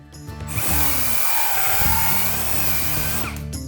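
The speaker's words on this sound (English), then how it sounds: "Now we're ready to clean the outside of the pipe with this part." A handheld power tool cleaning the outside of a pipe in a workshop: a steady, fairly loud whirring buzz that spins up, runs continuously for about three seconds, then winds down.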